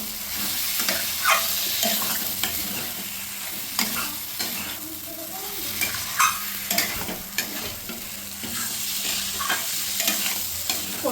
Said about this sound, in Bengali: ওই মশলার মধ্যে দিয়ে দিচ্ছি আলু এবং পটলগুলো দিয়ে মশলাটাকে ভালো করে কষিয়ে নেবো